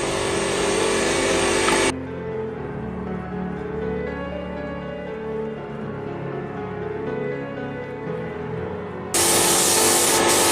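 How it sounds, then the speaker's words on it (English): A Mod Podge sealer spray can hisses in a long, steady burst lasting several seconds, close and even, between louder rustling handling noises at the start and end. "Now it's time to spray the Mod Podge sealer."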